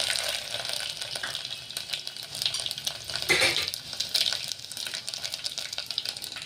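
Garlic slices, mustard seeds, cumin and curry leaves sizzle in a spoonful of hot oil in a pot for a tempering. A close, steady crackling hiss rises with spattering bursts, alone without talk.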